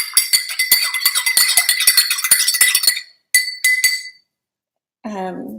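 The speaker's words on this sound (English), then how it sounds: "And so I stirred this because, so I've added my salt, I've got my apple cider vinegar." A spoon stirs salt and apple cider vinegar in a glass, giving rapid, bright, steady clinks against the glass for about three seconds. A few more clinks follow after a pause, and then a voice begins speaking.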